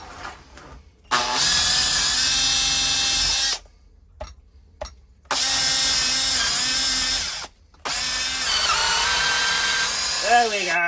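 A Makita DDA351 cordless angle drill bores into wood in three long, loud whirring bursts separated by short pauses, the motor's pitch sagging slightly under load near the end.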